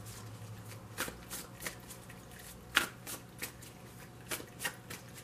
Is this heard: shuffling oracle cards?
yes